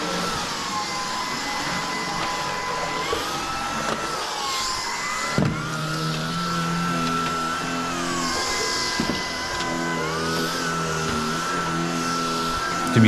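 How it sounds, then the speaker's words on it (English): A Hoover vacuum cleaner runs in a small studio toilet, giving a steady, loud whirring drone whose pitch rises and falls as it moves, with a couple of brief knocks and no talking. "the tool I use the most is the Hoover"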